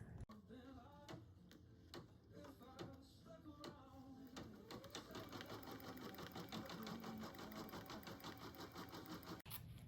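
An in-the-hoop embroidery machine stitches inner ear fabric for a bear stuffie, a fast steady mechanical ticking that speeds into a dense continuous rattle, close and fairly quiet, with no voices.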